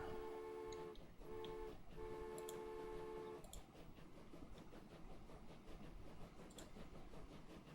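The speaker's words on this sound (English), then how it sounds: "let's watch our beautiful new train come out" A new train rolling out in the rail-building game Transport Fever, with a steady mechanical hum and a sustained tonal drone for the first few seconds, then continuous dense rumbling clatter, all fairly faint.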